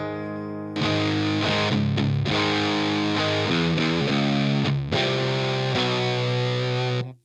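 An electric guitar played through a Drunk Beaver Bat Cold War RAT-style distortion pedal with the volume up and gain cranked rings out in thick, sustained distorted chords, loud and continuous with a few brief changes.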